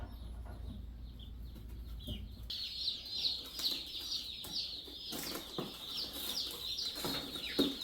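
Pastured meat chickens on a farm clucking, a quiet start giving way to a busy chorus of close, repeated clucks and chirpy calls from many birds, with occasional wing flaps.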